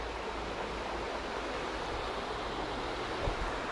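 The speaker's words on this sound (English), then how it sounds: "We're at a spot at the creek." Flowing creek water, a steady close broadband rush that continues unbroken with no talk over it.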